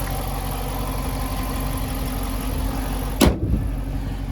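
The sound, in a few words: 2014 Dodge Challenger 5.7 liter V8 engine running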